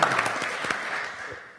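An audience at a Digital Learning Day session breaks into applause, a dense wash of many hands clapping that fades out over under two seconds.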